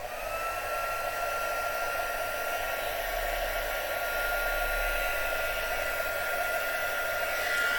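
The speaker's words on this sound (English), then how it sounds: "pop that there and get my heat gun" A heat gun blasts steadily and close up while melting embossing powder on a cheese board craft project, a continuous loud whooshing roar with a fan whine that holds for the whole stretch without pause.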